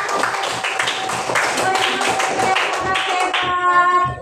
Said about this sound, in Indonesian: Beri tepuk tangan semua untuk kalian